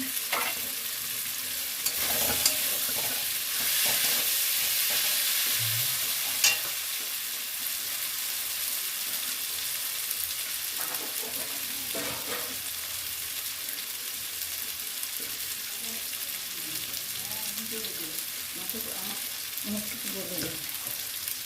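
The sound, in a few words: bay leaves sizzling in hot oil for doi machh curry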